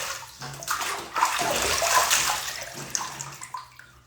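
Water splashing and running in a bathtub as hair is rinsed, a steady wash of sloshing flow that swells and eases over a few seconds.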